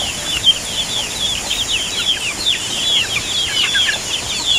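Backyard chickens cluck and squawk in a busy flock, with a quick burst of wing flapping early on, the calls overlapping and near, broken by short high chirps over a faint steady background hiss.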